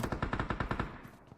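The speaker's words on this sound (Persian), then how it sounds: "صدا تیر اومد اینجا" Rapid gunfire in a competitive video game tournament match, a quick burst of about eight evenly spaced shots heard at moderate distance, fading into a quieter tail.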